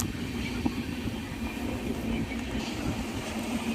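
From inside a passenger train running between Kengeri and Bidadi near Bengaluru, a steady low rumble with a faint sustained hum carries on evenly without a break, and no one speaks.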